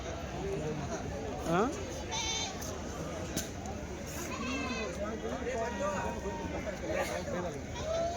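Several male goats bleat repeatedly, close by, with wavering calls overlapping people talking and general bustle at a weekly goat and sheep market.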